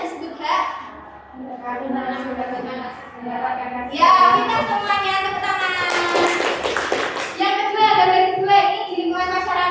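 A classroom of children claps hands in a short burst of rapid, crisp claps partway through, with children's voices and chatter heard before and after.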